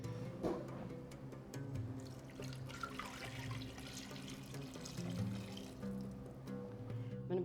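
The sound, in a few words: water poured into pot for Moroccan couscous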